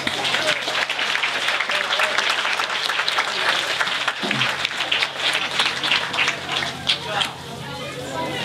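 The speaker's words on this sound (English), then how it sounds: "another round of applause for the Sidors" Sustained applause from a crowd gathered at an outdoor picnic event, a thick continuous patter of many hands clapping, with faint voices underneath and the clapping thinning slightly toward the end.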